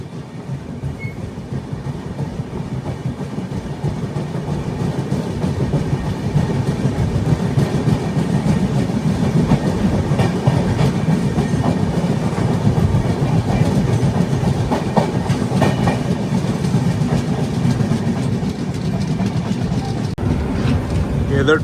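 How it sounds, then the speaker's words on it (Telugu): A passenger train from Jodhpur runs at speed, its steady clickety-clack on the rails carrying under a constant rumble and interior noise, with a voice talking faintly at times. "అందుకుంది మన బండి స్పీడ్."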